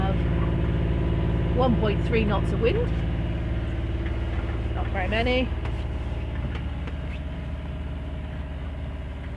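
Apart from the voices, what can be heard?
sailboat engine running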